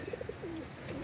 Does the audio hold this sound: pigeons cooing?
yes